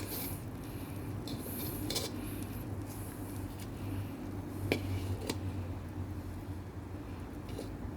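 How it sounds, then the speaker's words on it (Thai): A fried omelette being cut into pieces in a pan, with light scraping and tapping of a utensil against the pan under a steady background hum. "เดี๋ยวเราจะตัดไข่ในกระทะเลยนะครับ ตัดให้เป็นชิ้นๆพอดีคำ"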